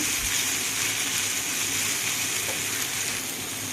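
Ridge gourd peel and tamarind cooking in a pan give a dense, continuous sizzle and hiss that holds steady throughout.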